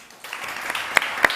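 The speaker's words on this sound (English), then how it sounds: "Big applause." Brief applause from a conference audience after a talk, a short ragged patter of clapping that swells with a couple of sharp nearby claps before cutting off.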